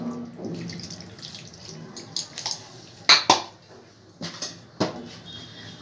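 Water from rinsing a mixer jar that held ginger-garlic paste is poured into a pot of masoor dal, a splashing pour with a few sharp clinks of utensils, fairly close and without speech.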